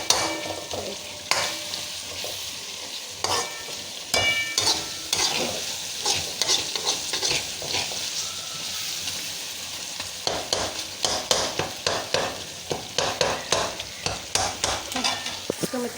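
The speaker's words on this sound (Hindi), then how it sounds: "ये देखिए बिल्कुल इस तरह से तोड़ के आप टमाटर को सॉफ्ट कर लें।" Tomatoes being stirred and mashed into a sizzling masala in a frying pan for bhindi masala, with repeated close scraping and pressing strokes over a steady fry, and no talking.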